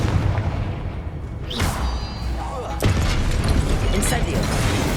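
A Confringo blasting spell from the video game Hogwarts Legacy goes off as a loud booming explosion, followed by a second burst amid dense game noise.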